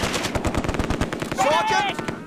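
Rapid bursts of MG42 machine gun fire in the World War II strategy game Close Combat 2: A Bridge Too Far, a fast steady rattle of shots close by with a voice calling out over the end.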